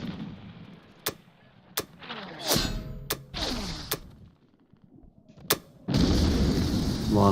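Artillery fire in the Axis and Allies 1942 video game, a series of sharp cracking blasts spaced irregularly with whooshing and rumbling impacts between them, ending in a heavier sustained rumble.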